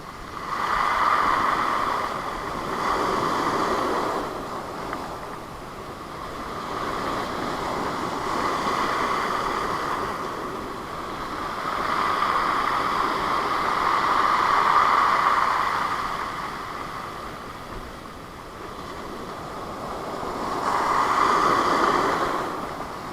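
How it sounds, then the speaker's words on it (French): Sea waves surge and wash onto a pebble beach in slow rising and falling swells every few seconds, loud and close, with some wind noise. "on se rend compte quand même de la puissance de la mer et des vagues dans les galets"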